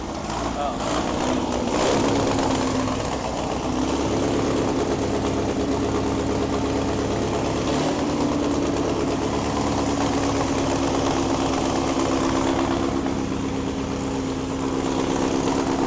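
A 1961 VW Beetle barn find with its engine running, a loud, continuous, slightly uneven idle that stays close and steady the whole time.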